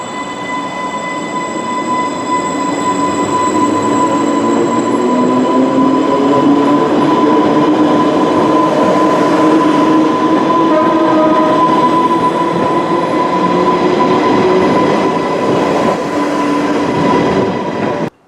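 Island Line train at Brading station, Isle of Wight, running steadily and loudly throughout, with a broad rumbling roar, faint wheel squeal and a sustained whining tone, close by and continuous.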